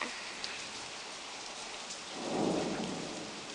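Steady rain pours down outdoors during a thunderstorm, hissing evenly, while a low rumble of thunder swells near the end.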